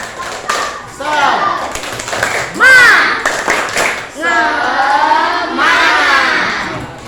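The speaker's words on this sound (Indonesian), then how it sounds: "yuk biar tambah semangat kita tepuk semangat" A classroom of fourth-grade pupils performs the tepuk semangat clapping chant, with rhythmic claps and voices chanting together, loud and close, cheering shouts rising partway through.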